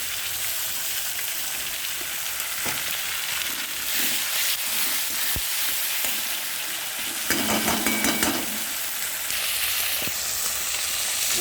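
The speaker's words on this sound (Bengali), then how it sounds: "পেঁয়াজ ভাজা হচ্ছে" Loud, steady sizzle of onions frying in a pan fills the clip, with occasional scraping and stirring noises.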